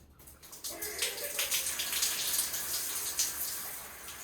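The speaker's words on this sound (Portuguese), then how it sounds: "Liga o chuveiro, faz o teste de um lado para o outro" Water runs steadily from an electric shower whose heating element has just been replaced, a continuous hiss of spray that builds after a quiet first half-second and stays fairly even, with no voices.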